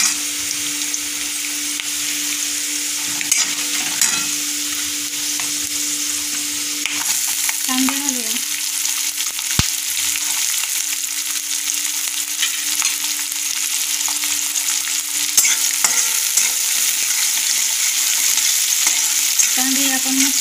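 Peanuts fry in hot oil for a poha dish, a loud, steady close sizzle with occasional scraping stirs and a short metallic squeal midway.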